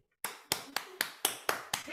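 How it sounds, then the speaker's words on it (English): Seven sharp, evenly spaced claps, close and fairly loud, from an audience welcoming Murad Ersan, co-founder of TAKADAO, at a TAKATURN launch webinar; a short silence comes before the first clap. "clap for Murad Ersan"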